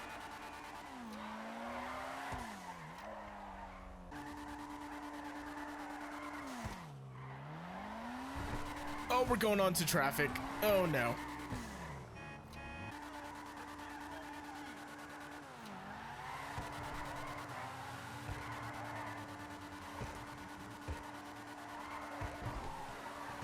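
Engine roar of a Dinka RT3000 racing car in GTA 5 Online rising and falling as tires squeal through drifting slides, with excited talking over it.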